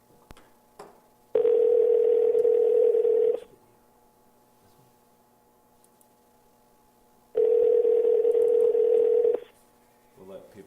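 A telephone call rings out on the line, giving two long, steady electronic tones about two seconds each, separated by a silent pause of several seconds, loud and close with faint background noise between them.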